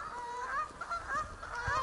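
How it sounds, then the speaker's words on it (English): Geese honking near a pond on a mountain estate in Snowdonia, Wales, a string of nasal honks repeating close by, several overlapping calls over a soft outdoor background. "Oh, ducks. Goose. Geese, yeah."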